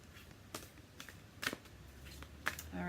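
Quiet, scattered riffling and soft slaps of large, stiff oracle cards being shuffled, in a few separate bursts over faint background hiss.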